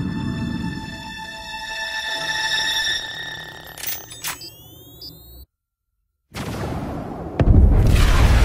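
A thermonuclear bomb detonates in a Spider-Man: Homecoming trailer scene: a deep, loud boom and rumble build under high ringing tones, cut to sudden silence, then a heavy blast roars back near the end.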